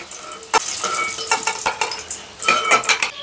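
Fried eggs lifted out of a pan of hot oil, with light sizzling under a series of sharp metal clinks and scrapes from a spatula against the pan, no talking.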